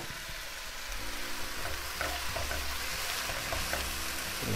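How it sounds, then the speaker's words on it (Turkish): Onions caramelizing in a pan with a splash of water sizzle steadily while a utensil stirs them, giving a continuous close frying hiss with soft scraping throughout. "Şimdi karıştırıyorum."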